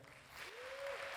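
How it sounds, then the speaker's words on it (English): Audience applause at a media conference honoring editors-in-chief of leading news outlets, a steady wash of clapping that builds slightly louder over a short span, with a faint tonal whistle or feedback rising through the middle. "Please applause Civil from Azer News, Azerbaijan."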